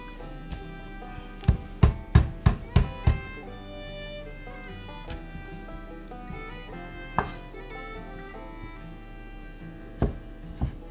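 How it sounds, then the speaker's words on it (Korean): A kitchen knife chops thick wild chive bulbs on a cutting board, a quick burst of five or six sharp, loud knocks followed by a few scattered single taps, close and with no talking. "그래서 대가리는 먹기 좋게 칼로 두드려서 썰어 보겠습니다."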